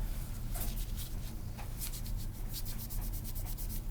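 A Zippo lighter is scrubbed with cleaning solvent, giving continuous close scratchy rubbing strokes over a low steady background hum.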